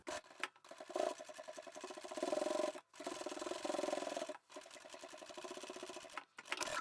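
A sewing machine top stitches a towel along a pleated band, running in several steady bursts of rapid needle rhythm separated by short pauses, close and moderately loud with no talk.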